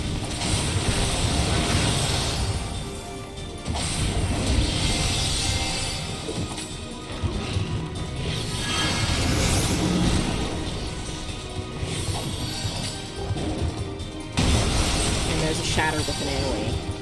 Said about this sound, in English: I can hear that some crystals are about to fall